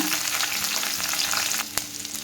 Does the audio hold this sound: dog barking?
no